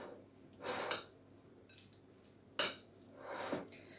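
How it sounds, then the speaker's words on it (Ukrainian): A spoon scrapes and clinks against a bowl while chopped potato filling is stirred with mayonnaise, with a few separate close mixing strokes and one sharp clink in a quiet kitchen. "Тепер додам столову ложку майонезу, гарно перемішаю і подивлюся, потрібно ще додавати чи ні."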